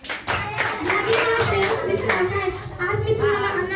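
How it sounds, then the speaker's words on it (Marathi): Children and adults clap for a student speaker at a school Teachers' Day speech competition, a dense rattle of applause close by, with a voice heard over it. "टाळ्या."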